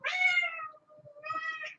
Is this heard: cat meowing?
yes